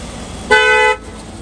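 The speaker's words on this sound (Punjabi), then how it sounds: "ਹਾਰਨ ਵੱਜਾ ਜਾ ਹਨ ਇਹ ਗੱਡੀ ਕਿਹੜੀ ਆ" A car horn gives a single short, loud toot of about half a second, sounding close against a low background hum.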